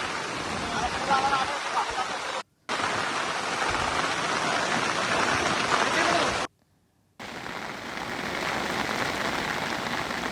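Heavy monsoon rain pours over the flooded, rising Ulhas river at Karjat, Raigad, as a loud, dense, continuous hiss of water, broken by two short cuts of silence.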